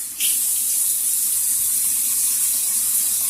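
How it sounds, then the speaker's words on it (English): Warm water runs steadily from a tap as seeds are rinsed by hand, a constant close hiss of flowing water that starts abruptly and continues unbroken. "is get some warm water, and I'm just going to take the seeds in my hand and kind of rinse."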